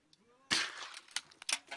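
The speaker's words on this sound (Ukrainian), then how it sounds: "3 постріли і 3 дірки в трубці розвідника." A sniper's rifle shot strikes a scout's periscope tube at a frontline position in Donbas, a sharp sudden crack followed by a few quieter impacts and clicks in an otherwise hushed setting.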